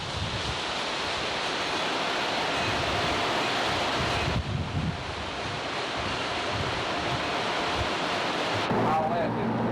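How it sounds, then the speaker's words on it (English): Strong Hurricane Hugo wind, gusting up to 40 mph, roars continuously against the microphone, a loud rushing buffet that swells in gusts and briefly drops away. "We're having gusts up to 40 miles an hour"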